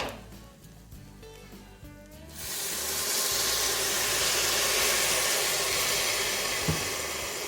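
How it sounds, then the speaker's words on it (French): Broth hits a hot Cookeo pan of browned chorizo rice, and a quiet cooking hum gives way to a sudden, loud, sustained steam hiss and sizzle that holds for several seconds. "On va déglacer avec le bouillon"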